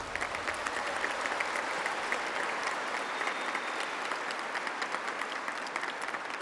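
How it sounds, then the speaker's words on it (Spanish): A crowd at an outdoor public event in Puebla, Mexico, applauds steadily, a dense wash of clapping at even volume throughout. "Un aplauso para ellos."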